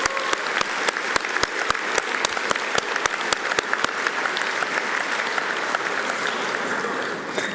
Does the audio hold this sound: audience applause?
yes